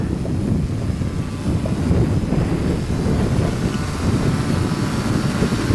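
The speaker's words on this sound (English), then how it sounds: "It's kind of breezy out here, so." Breezy outdoor wind rushes steadily and loudly across the microphone during a maiden flight of a 650 mm pine-wood H-frame quadcopter, a constant broadband roar with no talk.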